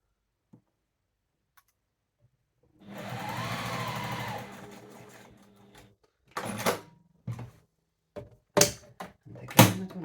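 A domestic sewing machine runs in a steady whirring burst for about two seconds while stitching a fabric tissue basket, then stops, followed by scattered close clicks and handling knocks.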